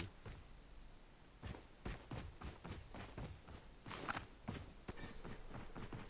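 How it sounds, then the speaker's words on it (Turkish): Footsteps of a player character in the Call of Duty Mobile video game, a run of soft, fairly even impacts at moderate volume over a steady background of game ambience, with no talking. "Ayak sesi var."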